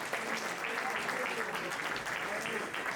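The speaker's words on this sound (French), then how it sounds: "on peut les applaudir, hein, bravo" An audience at a Kino short-film challenge event applauds a team, a continuous crowd clapping throughout, with voices mixed into the applause.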